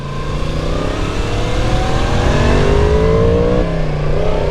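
A 2022 Yamaha MT-10, a motorcycle with an R1-derived engine, revs while being ridden on the road, its loud, close engine note rising and falling through smooth climbing pitch sweeps, with a brief throttle change near the end.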